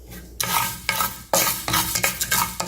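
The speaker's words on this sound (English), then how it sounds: "about 2 tablespoons of coriander seeds. And again roast them." Coriander seeds roasting in a pot, with a spoon scraping and stirring through them in repeated loud strokes over a light sizzle, close up.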